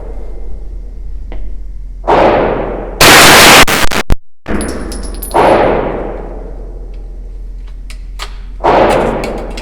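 A Ruger PC9 9mm carbine loaded with a Glock 17 magazine fires several loud, sharp shots indoors, spaced a second or two apart, each with a decaying echo. One burst is very close and clipped.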